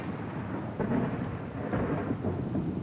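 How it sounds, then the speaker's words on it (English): Steady rain with low thunder rumbling through it in a video game running the Pure Weathers mod, a constant dense patter with swelling rolls of thunder and no voices. "So it's raining, there's no rain clipping through"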